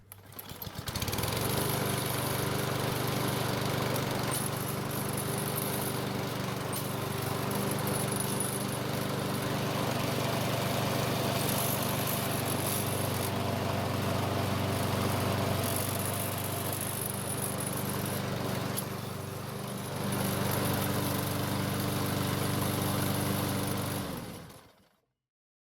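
A Lawn Boy self-propelled mower's small engine runs steadily for about twenty-five seconds, close and loud with a constant droning hum, a slight dip in pitch midway, then cuts off abruptly at the end.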